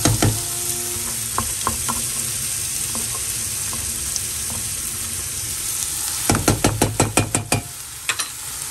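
Garlic sizzles loudly in a hot pan for a rice-and-bean sofrito, with a steady frying hiss and a quick run of scraping, clinking stirs near the end.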